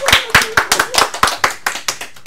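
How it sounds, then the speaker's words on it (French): A small audience claps for a performer after a comic segment about tickling, the individual claps loud, close and distinct, coming in a loose, steady rhythm of a dozen or so strikes. "on peut applaudir Thibaut pour sa chronique sur les chatouilles"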